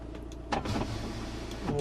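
Electric window motor on a VW T5 van whirring for under two seconds, close and fairly quiet, a steady mechanical hum rising in strain near the end with faint idling engine rumble beneath.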